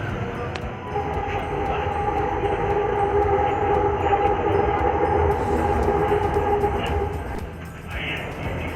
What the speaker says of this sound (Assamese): আজি আমি ফাৰ্ষ্ট টাইম মেট্ৰ' ট্ৰেইনত যাত্ৰা কৰি আছোঁ।